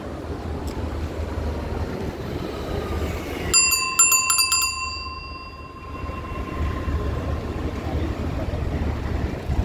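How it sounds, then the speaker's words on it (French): A bicycle bell on a bike riding through a Paris street detour rings out in a quick bright cluster of several dings, clear and close above a constant wash of street noise. "Regardez, j'ai mis une belle sonnette."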